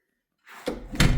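A newly installed and adjusted door in a house under bathroom renovation swings shut, giving a soft whoosh and then two close, solid thuds in quick succession.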